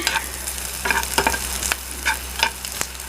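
Egg 65 pieces fry in hot oil as they are stirred. The oil sizzles constantly and close up, and a spoon scrapes and clinks now and then. No one talks.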